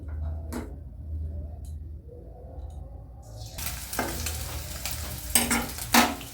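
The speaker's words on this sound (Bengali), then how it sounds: "আমি পনিরগুলো ভেজে নেব।" Paneer pieces frying in a pan on raised gas heat start as a low, quiet hiss, then swell into a louder bubbling sizzle with a few sharp spatula taps toward the end.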